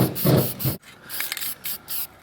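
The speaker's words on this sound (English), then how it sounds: "Everybody be spray painting." Gold paint sprayed onto a 1960s-style car in a garage, bursts of hissing spray with short pauses between passes, close and fairly loud.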